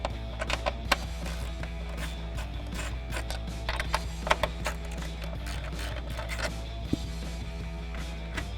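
Ratchet working three 10mm bolts off a 2015-2023 Mustang tail light, rapid clicking bursts and small metallic knocks over a low steady hum, close up with no talking.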